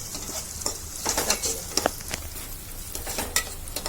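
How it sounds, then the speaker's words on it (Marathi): Onion and tomato cooking in a pan for chicken kolhapuri, a soft steady sizzle with repeated scraping stirs of a spoon, close and without talk. "कांदा टोमॅटो चांगला शिजू देऊया आपला कांदा आता शिजत आलेला आहे"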